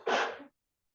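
A single short sneeze, close and fairly soft, ending abruptly into silence.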